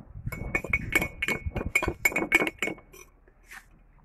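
A metal spoon clinks against a cup in a quick run of bright, ringing taps that speed up, then slow to a few faint final touches, heard close and alone.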